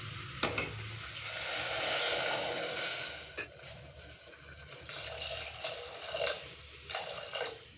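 Cooking water being poured into a pan of vada curry, a steady watery rush that swells through the first few seconds and then trails into lighter splashes and clinks, with no talk.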